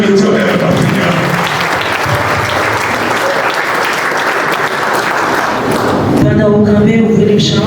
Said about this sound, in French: Applaudis le Dieu.